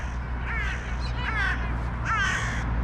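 Seagulls call in three harsh, wavering cries spaced about a second apart, fairly close and loud over a low, constant outdoor hum.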